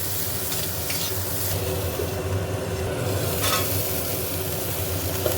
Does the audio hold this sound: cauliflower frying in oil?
yes